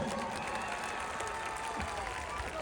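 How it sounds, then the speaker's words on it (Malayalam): An audience at a stage music and dance event in Nilambur claps steadily, a dense, continuous wash of applause heard from within the crowd, fairly distant and even in level with no clear breaks. "ഒരു നല്ല കയ്യടി ഞാൻ പ്രതീക്ഷിക്കുന്നു"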